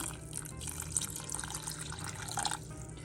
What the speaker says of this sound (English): So now I'm just adding the water.